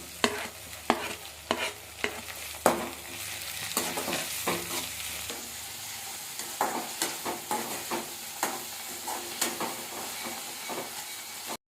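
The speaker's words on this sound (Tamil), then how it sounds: "தக்காளிலாம் நல்லா வதங்கி வந்துடுச்சு" Chopped tomatoes sauté in a hot pan for a Tamil-style squid gravy, a steady sizzle broken by repeated scraping stir strokes of a spoon, close and alone without talk.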